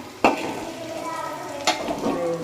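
Potatoes frying in a pan are stirred, with two sharp scraping clacks of the utensil against the pan over a continuous sizzle.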